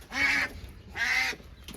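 A domestic female duck gives two nasal, drawn-out quacks about half a second each, separated by a short pause, fairly close and clear with no talking.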